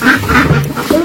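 Ducks quack repeatedly and loudly up close on a foggy village morning, a steady run of harsh nasal calls filling the whole moment with no talk over them.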